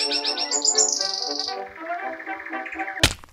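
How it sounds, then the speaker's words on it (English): A pet bird sings indoors, close and clear, with rapid bright trills sliding down into a run of chirps, ending in a sharp thump. "my bird is singing again."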